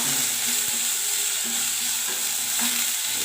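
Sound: onions sautéing in a pan

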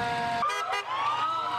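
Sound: emergency vehicle siren

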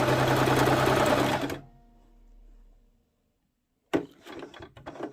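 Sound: Singer Promise 1408 sewing machine stitching zigzag

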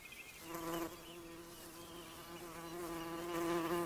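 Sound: bumblebees humming in meadow

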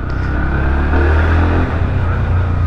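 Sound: Bajaj Pulsar NS 160 motorcycle engine accelerating

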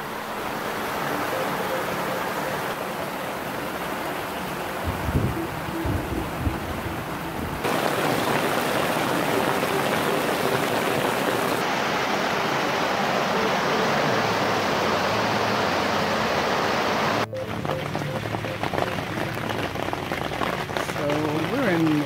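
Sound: heavy rain falling on tarp

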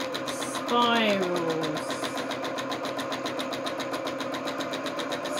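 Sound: sewing machine stitching fabric

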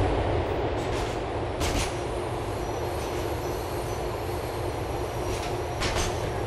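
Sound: train passing on LTA Rail line in video game Grand Theft Auto IV

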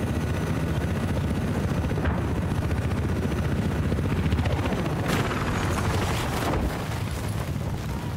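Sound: helicopter in a video game

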